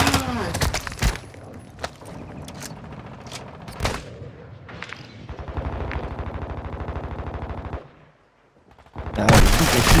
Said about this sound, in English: I'm shooting him through the fucking bushes.